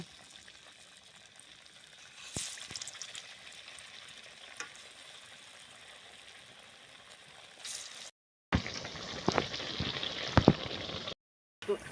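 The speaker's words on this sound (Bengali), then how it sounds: "আমি তেল দিয়ে সাদা তেলে কোপ্তাগুলো ভেজে নেব" Green banana koftas frying in hot white oil, a steady close sizzle that swells into a louder, crackling burst partway through, with brief clatters and short silent gaps.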